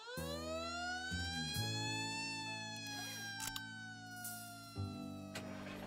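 A cartoon fire engine's wailing siren sweeps up and holds a high pitch over a low engine drone, with a couple of sharp clunks.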